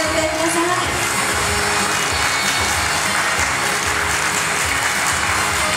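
Loud, dense applause from a stage event audience welcoming guests, a steady unbroken wash of many hands clapping that fills the whole stretch with no talk over it.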